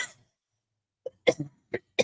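A few short, sharp coughs in quick succession after a brief silence, close and fairly loud.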